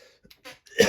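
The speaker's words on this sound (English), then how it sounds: "Excuse the cough." A single short, throaty cough near the end, close to the microphone, with faint breathy sounds just before it.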